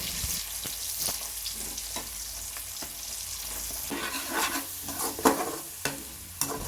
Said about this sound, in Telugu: నాలుగు మీడియం సైజు ఉల్లిపాయలు తీసుకున్నానండి ఇలా కట్ చేసుకుని వేసుకోవాలి